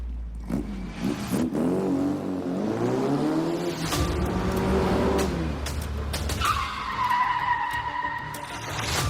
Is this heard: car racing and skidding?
yes